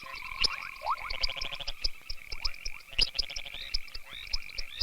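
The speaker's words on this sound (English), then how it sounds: "The great grey tree frogs" A dense chorus of great grey tree frogs croaks and trills nearby, overlapping calls pulsing rapidly with no voices present.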